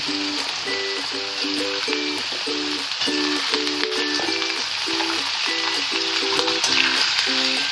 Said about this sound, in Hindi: अब हम इसमें अपने आलू डालेंगे और इनको हम पाँच से दस मिनट के लिए इस तेल में अच्छे से भून लेंगे